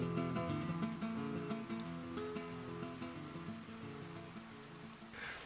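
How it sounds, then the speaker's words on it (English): Heavy rain pouring just outside a coastal rock overhang, a steady dense hiss of falling water heard from a sheltered spot, even and continuous throughout. "It's pouring with rain out there, but we're dry in here."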